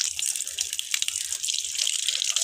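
A guppy-breeding net is rinsed under running tap water, a steady close splashing stream with no talk.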